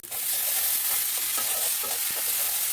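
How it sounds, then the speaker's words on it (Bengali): Fried fish pieces sizzle loudly in a pan just after garlic paste with a little ginger paste goes in, a dense continuous frying hiss with stirring scrapes and no talking. "মাছ ভাজা হয়ে গেছে, এখন রসুন বাটা দিয়ে দিলাম"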